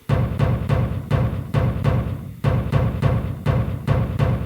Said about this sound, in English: This metal grate's good.